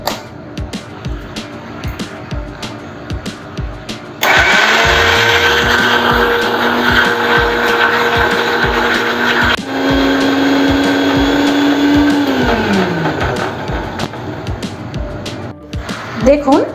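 An electric blender grinds cabbage leaves with black cumin into a paste, a loud, steady whining roar that kicks in after some light tapping, shifts pitch partway through, then winds down near the end.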